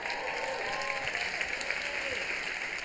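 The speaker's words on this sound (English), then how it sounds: "I didn't want y'all to clap." A comedy special crowd claps and applauds steadily for a few seconds, a dense, even wash of hands from a large theatre audience with no talking over it.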